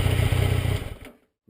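A Yamaha Tracer 900 GT motorcycle with its stock exhaust gives a steady, low engine drone that fades away to silence near the end.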